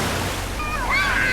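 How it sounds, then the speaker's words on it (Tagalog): Strong ocean waves break and wash at Puka Beach in Boracay in a constant loud roar, with a faint high whistle or distant voice rising near the end. "Lakas ang alon."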